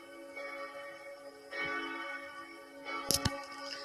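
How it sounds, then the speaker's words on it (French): Two bourdon bells in a belfry sound a solo: deep ringing tones with a long sustained hum, struck a few times at irregular intervals, the last strikes coming sharper and closer together. "je fais le solo des cloches"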